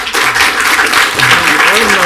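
Audience applause at a planning and zoning meeting, a dense, loud wash of clapping from a crowded room with some voices mixed in throughout.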